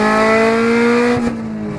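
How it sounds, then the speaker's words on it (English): A 1999 Honda Civic with an open header holds a loud, steady high-revving engine drone while its tires spin on wet ground, with a brief scrub near the end as the pitch drops slightly. "He's doing a burnout."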